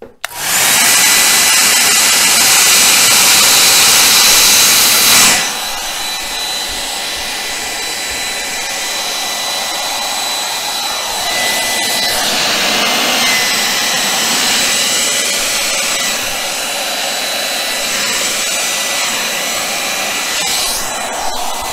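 Loud, steady blast of air from a blower playing over a ten-colour acrylic Dutch pour, continuous and close, dropping slightly in strength after a few seconds and then running on evenly.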